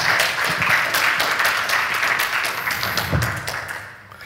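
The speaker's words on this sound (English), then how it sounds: "Give him an applause, please." Conference audience applauding a speaker introduced to talk about playing to innovate, a steady dense patter of clapping that fades toward the end, with no speech over it.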